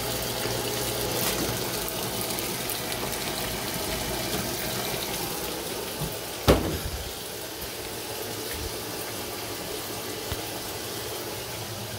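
A steady stream of water runs into a washing machine while a detergent cap is rinsed under it, giving a continuous close gush with one brief knock partway through.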